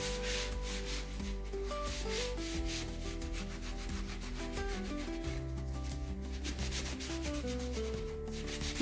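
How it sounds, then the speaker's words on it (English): A cloth rubs stain into a plywood board for a pantry shelf with repeated back-and-forth strokes, a close, steady scrubbing friction that continues without pause or talk. "Just the rubbing it will move it all over the board."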